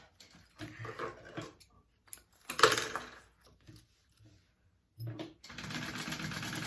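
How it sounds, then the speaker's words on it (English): Sewing machine stitching along the sides of a pocket on a mini crossbody bag's front panel, running in short bursts with pauses and a longer steady run at the end, fairly faint. "I'm going to sew up this pocket along the sides"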